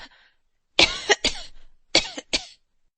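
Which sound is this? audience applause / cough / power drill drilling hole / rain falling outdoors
cough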